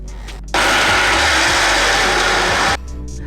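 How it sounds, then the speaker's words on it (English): A kitchen blender whirs loudly as soybeans are blended for homemade tofu, switching on abruptly, running at a steady roar for about two seconds, then cutting off. "The blender's not very powerful."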